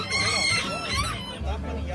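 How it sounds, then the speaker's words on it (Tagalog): Small bantam chickens crow loudly and close at a crowded poultry show, several overlapping crows and clucks filling the moment with a busy hall murmur underneath. "Madami din silang mga pantam dito na sinasali yung mga maliliit na manok"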